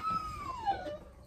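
Hounds whine ahead of a trail hunt, one long descending whimper sliding downward and fading, heard fairly close and alone with faint outdoor background.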